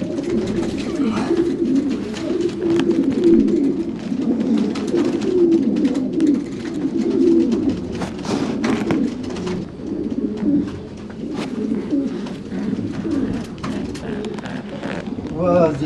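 Racing pigeons coo steadily in a loft, a dense overlapping murmur of low throaty calls that runs throughout, with occasional wing flutters and faint voices talking in the background.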